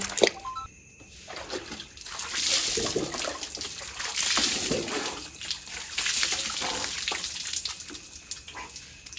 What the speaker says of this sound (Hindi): अभी नहाना है ठंडा पानी से